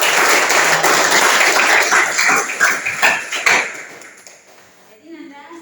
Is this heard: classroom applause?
yes